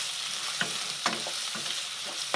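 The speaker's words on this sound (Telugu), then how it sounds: "ఆనియన్స్ బాగా ఫ్రై అవ్వాలి." Sliced onions fry in a pan with a constant close sizzle, punctuated by several soft scraping stirs at irregular intervals.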